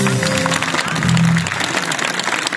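Audience applause at an outdoor concert at an archaeological site, a dense, loud wash of clapping that lasts throughout, with a brief sustained tone early on.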